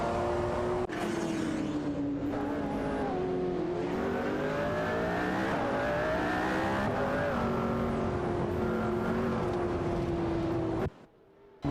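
Race cars in an AI racing video game roar steadily as they drive and overtake, a sustained engine whine rising and falling in pitch, then cutting off abruptly near the end.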